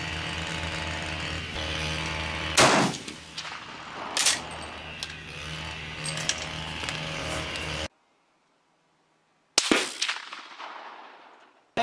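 Scoped K31 rifle fired at an outdoor range, with two loud, close gunshots several seconds apart, each followed by a rolling echo, over steady background rumble and a brief stretch of silence.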